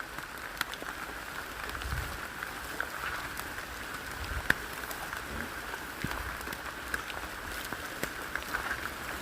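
Steady rain pattering in a forest, with scattered sharper drops tapping irregularly and a constant hiss underneath.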